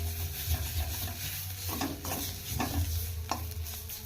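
Thick mashed bean paste (shim bata) is stirred in a pan with a steady scraping and low bubbling that carries on throughout, broken by a few sharper spoon-against-pan knocks. No one speaks.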